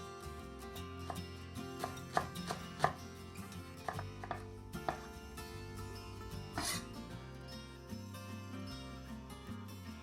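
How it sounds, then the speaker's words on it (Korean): A knife chops a small bunch of green onions on a cutting board for egg fried rice: a series of distinct chopping taps over steady background music, with no talking. "작은 대파 한 단 다져주세요."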